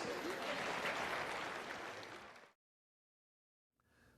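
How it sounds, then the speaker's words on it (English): Classroom audience in a microeconomics lecture giving a round of applause, dense clapping that fades out after about two and a half seconds, followed by silence and then faint sound returning. "Give him a round of applause."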